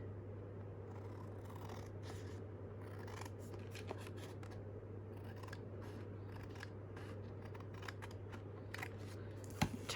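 Soft scissor snips trimming paper by hand for junk journal envelopes and tucks, a quiet run of small cuts over a steady low hum, with a few sharper snips near the end.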